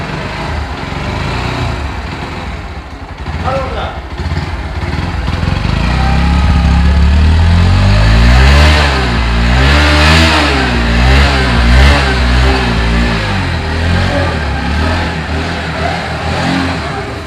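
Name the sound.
Bajaj Pulsar NS 125 motorcycle engine starting and revving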